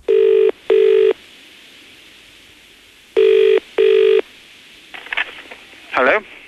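A British telephone rings during a 1994 radio prank call, heard as two loud, clear double-ring bursts separated by a pause, followed by a brief spoken voice.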